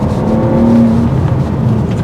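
A 2025 BMW M3 Competition accelerating in its comfort setting with slower shifting, giving a steady, loud engine drone that holds throughout with a rising tonal whine, no talk over it.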